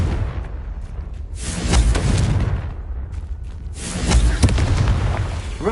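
A fiery spell explosion in the Hogwarts Legacy video game, loud rumbling booms that swell twice and roll on over a continuous noisy wash.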